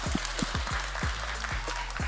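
Studio audience applauding after a League of Legends LCK Summer 2024 post-match interview with a Nongshim RedForce player, dense steady clapping throughout with low rhythmic thumps underneath.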